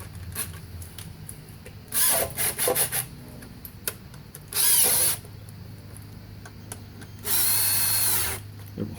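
Power tool running in three short bursts to tighten transmission pan bolts on a 2009 Pontiac G5, each whirring burst a second or so long with quiet rattling gaps between, fairly close.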